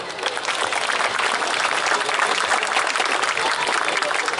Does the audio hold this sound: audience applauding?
yes